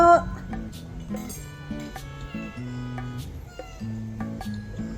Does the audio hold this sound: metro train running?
no